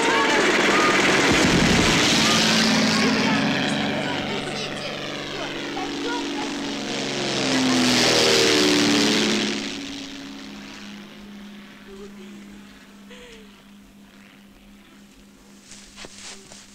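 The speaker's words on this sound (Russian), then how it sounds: "Самолет!" A propeller airplane flies overhead, its engine drone swelling loud and near, then fading into the distance, with a voice briefly heard over it.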